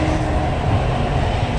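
Inside a moving Howrah metro underground train, a loud, steady low rumble and rolling roar carries through the carriage without pause.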